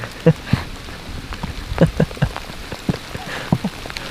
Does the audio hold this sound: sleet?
yes